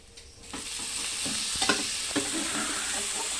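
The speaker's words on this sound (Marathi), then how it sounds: "आता ही शेंगा घालते मी गवारीच्या" Cluster bean pods drop into hot spiced oil and start sizzling steadily, with a few sharp crackles and stirring scrapes over a continuous close fry.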